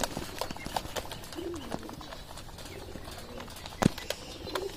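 Pet pigeons at their morning feeding time, with soft cooing, scattered pecks and wing flutters close by over a quiet room, plus a sharp knock near the end.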